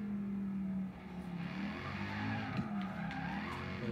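Mercedes SLS GMK supercar cornering in the video game Forza Horizon 3, a steady loud engine drone with shifting pitch and tire scrub through the turn, continuous throughout without talk.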